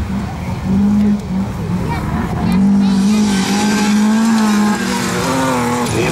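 Folkrace cars race and slide around a dirt track at an event in Karlstad, their engines making a loud, steady drone that rises and falls slightly throughout, with a commentator talking over it.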